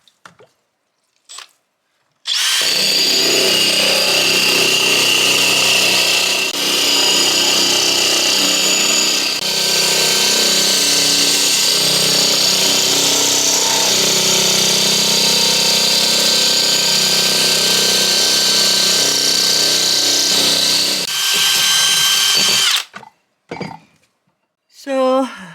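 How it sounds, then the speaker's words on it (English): A power drill bores holes in a planter pot, running as a loud, sustained whirring grind for about twenty seconds, with brief clicks and handling noises before and after. "Now I'm going to continue drilling the other ones."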